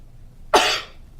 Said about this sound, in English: So I'm going to push in as I cough.